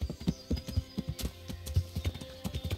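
Horse hooves clip-clop at a steady trot in the video game Kingdom Come: Deliverance, a close, even run of thudding beats with no talking.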